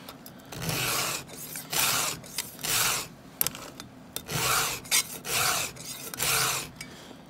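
Chainsaw teeth being sharpened by hand with a Stihl file guide, steady rasping strokes in repeated bursts of about a second each, close and fairly loud with brief pauses between strokes.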